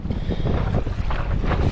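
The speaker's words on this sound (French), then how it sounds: "Il y a une superbe houle, il y a du vent." Wind and sea swell buffet a flat-hulled Lynx boat out at sea, a loud, constant rushing roar with gusty low-end wind noise on the microphone and no speech.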